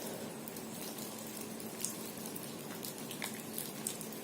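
Steady rain falling on a November afternoon, a continuous broadband patter with a few sharper drips standing out, even and moderately near, no voices.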